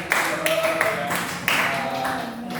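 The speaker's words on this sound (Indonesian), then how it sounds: "Tolong berikan tepuk tangan dulu buat kelompok Sriwijaya" Students in a classroom clap for a presenting group, an uneven scatter of hand claps with a few sharper accents, while a voice talks over them.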